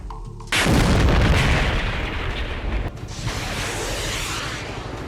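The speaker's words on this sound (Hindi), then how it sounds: "जगह ज़ेपोरिज़िया, रूस का रॉकेट हमला" A Russian rocket strike hits Zaporizhzhia with a sudden heavy explosion that erupts into a loud, sustained roar and rumble, followed by a second thud and a lingering wide blast wash.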